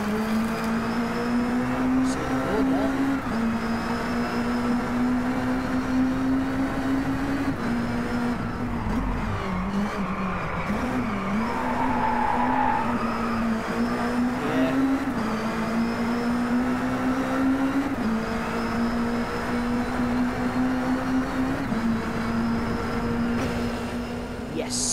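A Caterham race car, the Caterham Pro, driven in the racing video game Driveclub, its engine holding a steady droning note with small shifts in pitch throughout, loud and continuous.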